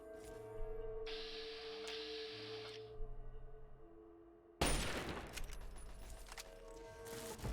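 Automated turret fire in Fallout 3: a sudden burst of dense, rattling shots breaks in partway through after quieter electronic game tones and hum, then keeps going loud and busy to the end.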